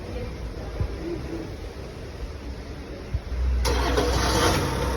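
A Toyota Land Cruiser, triggered by remote start, cranks and fires up after a quiet stretch, then settles into a steady, fairly loud idle rumble.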